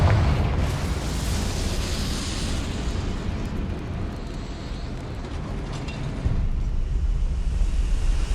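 Repeated explosive spell blasts in Hogwarts Legacy rumble as a dense, continuous boom with heavy low-end roar, loud and sustained, swelling again near the end without speech.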